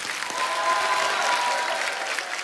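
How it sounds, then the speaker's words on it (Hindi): Studio audience applause on an Indian TV comedy talk show, a dense, even wash of clapping from a crowd that holds steady and loud throughout, with no speech over it. "एक बार जोरदार तालियां हो जाए।"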